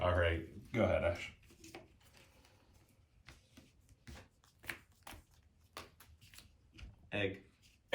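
Deck of Magic: The Gathering cards being shuffled at close range, two quick riffling bursts at the start and one more near the end, with scattered soft card taps and handling noises in between.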